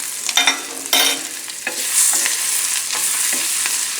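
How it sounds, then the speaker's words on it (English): Broccoli gets stirred in a pan of sizzling brown butter and garlic, with a couple of close scraping stirs up front followed by a steady, soft frying hiss. "Give it a stir."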